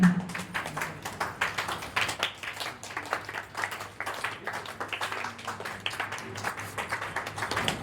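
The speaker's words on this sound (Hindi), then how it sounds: "तालियां बजती रहे।" Audience applause at a school award ceremony for a calligraphy and painting competition, a steady run of close, distinct handclaps with an even rhythm that continues throughout.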